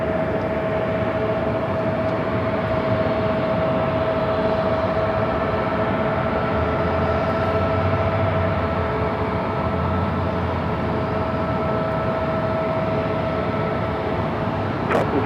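Airliners arrive at Los Angeles LAX airport under fine weather, a steady distant jet rumble and whine with a faint sustained tone, continuous and fairly quiet, with no talk.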